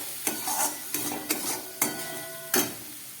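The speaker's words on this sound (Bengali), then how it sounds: "এবার একটু জল দিয়ে দিচ্ছি যাতে পুড়ে না যায়" Spice masala in a pan with a splash of water, cooking for an elephant foot yam and prawn curry, gives a soft steady sizzle with several sharp scraping stirs of a spoon against the pan.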